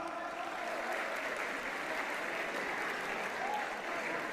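Wedding guests applaud steadily throughout, a dense, even patter of many hands at a traditional Uzbek celebration, sustained at moderate level without pause.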